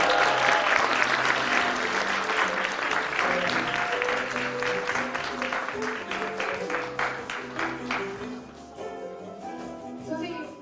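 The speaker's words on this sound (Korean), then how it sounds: "우리의 전상국 작가님을 큰 박수와 여러 가지 함성으로 모셔보도록 하겠습니다." Big applause with cheering and shouts from an audience welcoming novelist Jeon Sang-guk onstage at a literary café talk event, loud and sustained for about ten seconds before tapering off.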